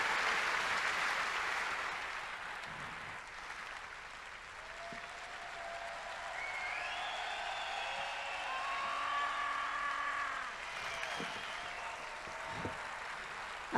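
Sustained audience applause in a comedy venue as comedian Guillaume Bats is welcomed on stage, a wide, moderately loud wash of clapping with some musical tones and scattered knocks mixed in.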